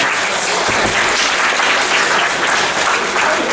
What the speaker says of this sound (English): Give them a round of applause because they do a great job.